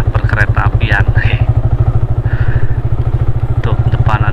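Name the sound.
motorcycle riding on a rural track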